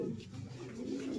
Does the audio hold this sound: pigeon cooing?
yes